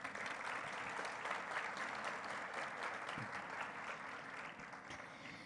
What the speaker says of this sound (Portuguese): mais uma salva de palmas, por favor